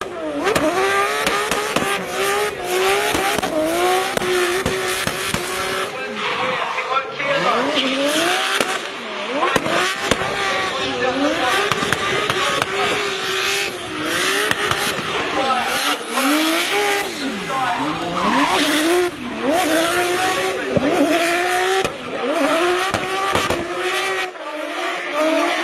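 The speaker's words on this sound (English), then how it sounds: "Plenty of limiter bash and wastegate flames out the bonnet." Team DSR drift car driven by Dave Steedman repeatedly bangs off the rev limiter with wastegate flames, engine notes sweeping up and down, loud and close amid tire squeal, with other engines and faint talk.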